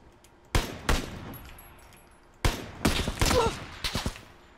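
Gunfire in the PUBG battle game, with sharp single shots at first and then a tighter cluster of loud cracks, including a headshot, standing out against quiet background.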